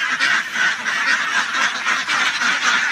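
A flock of ducks quacks continuously, a loud, busy chorus of overlapping calls close by with no pauses.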